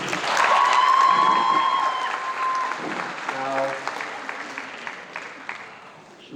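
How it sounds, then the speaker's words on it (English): Applause from an audience at a university cultural night, loud and sustained before slowly thinning out, while a voice speaks over it at the start and again near the end. "One more round of applause"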